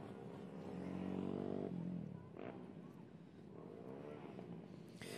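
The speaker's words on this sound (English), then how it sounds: "But you can hear them revving the engine." Mini Cup GP 110 youth race motorcycles rev their engines on the starting grid at a MotoAmerica national final, a faint, distant droning whine that rises and falls, with a commentator talking over it.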